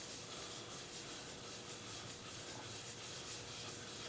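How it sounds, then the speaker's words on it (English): Faint, continuous abrasive rubbing with a rhythmic swishing texture as sandpaper is pressed against a wooden bowl spinning on a lathe, coated with sanding sealer. "So easy to sand."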